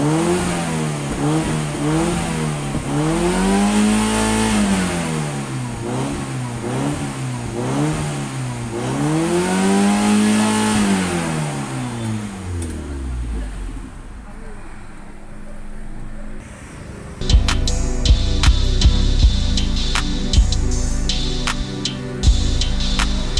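Honda Civic Ferio engine fitted with a racing muffler, revved repeatedly in rising and falling blips, loud and close, then settling into a rough idle with clattering knocks near the end.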